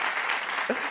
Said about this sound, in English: let's all give a round of applause to our teachers and librarians